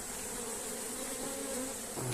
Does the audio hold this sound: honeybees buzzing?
yes